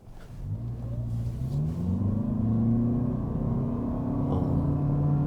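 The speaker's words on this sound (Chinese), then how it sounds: "沒想到一開始的科目竟然是直線加速" A Lexus ES300h hybrid sedan accelerating hard in a straight-line test, engine drone rising smoothly and steadily in pitch, heard from inside the cabin with no speech.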